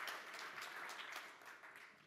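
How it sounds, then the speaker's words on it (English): One man claps for himself at a tech conference session, a dense, steady patter of hand claps lasting about two seconds, fairly faint and heard without talk. "I'll give myself a applause."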